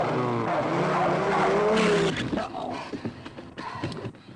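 A car pulls away with the handbrake still on in a 1962 British comedy scene: a loud, strained engine whine with a squealing, skidding edge, then scattered clunks and rattles as it dies down.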